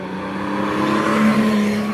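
A Triumph GT6 racing up the Doune hillclimb course roars past close by, its engine note holding a strong steady tone and swelling slightly mid-run.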